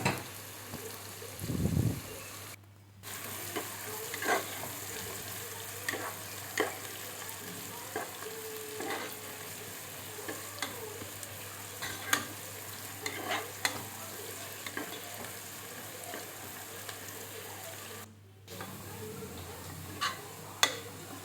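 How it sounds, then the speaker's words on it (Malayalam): Finely chopped onions fry in oil as garnish for Thalassery dum biryani, a steady close sizzle broken by occasional scraping stir clicks, with no talking. "ഇനി നമുക്ക് ആ എണ്ണയിലേക്ക് തന്നെ സവാള പൊടിയായി അരിഞ്ഞത് നമുക്കതിനകത്തേക്ക് ഇട്ട് വറുത്ത് കോരിയെടുക്കാം."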